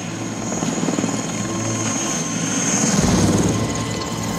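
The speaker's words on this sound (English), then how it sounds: "we've seen now a helicopter flying around" A helicopter in Rambo III drones steadily with a continuous loud rotor and engine roar throughout, with no voices present.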